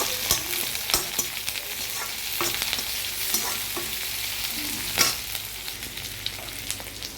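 Onions and a couple of cashews sautéing in a frying pan for chana masala, sizzling steadily with irregular scraping stir strokes, close and clear with no talking.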